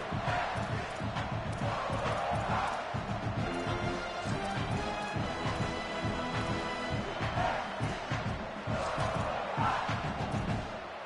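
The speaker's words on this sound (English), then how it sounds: "This crowd rising up, sensing that its defense needs some help." A stadium crowd in a college football video game roars continuously and loudly throughout, with rhythmic chanting and band-like pulses beneath a dense, sustained wall of cheering.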